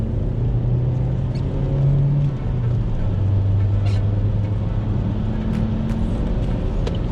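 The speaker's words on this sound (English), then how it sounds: "Right, so in here I'm going to accelerate because it's the motorway." A 2013 Vauxhall Astra J SRI 1.4 petrol hatchback accelerating hard on a wet motorway, heard from inside the cabin: a steady low engine drone rising in pitch, with road and rain noise around it and no talk.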